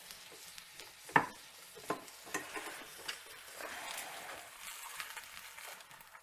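Spatulas scraping under a sizzling okonomiyaki to transfer it from the pan to a plate, sharp metallic scrapes and clinks over a continuous soft frying hiss, close by.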